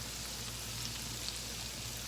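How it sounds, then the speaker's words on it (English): Blue claw crab fries in hot oil, giving a faint, steady hiss with fine crackling pops, continuous and even with no talking. "So we're frying it up."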